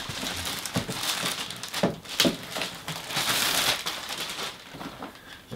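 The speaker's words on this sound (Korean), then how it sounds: "비닐을 바로 까보도록 하겠습니다." Plastic wrap crinkles and crackles as it is peeled off a boxed Hot Toys Nightmare Batman figure, a close, busy rustling with a few sharper tears and no talking.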